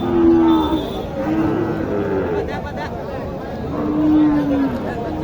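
Sahiwal cattle at a rural livestock market moo repeatedly, a few long, loud calls close by over a background of crowd chatter and talking.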